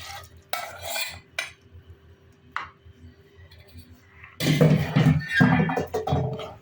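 Warm milk and melted margarine stirred together in a bowl for soft layered chapati dough, with scraping, clinking bursts growing louder and busier toward the end, a few quieter taps earlier.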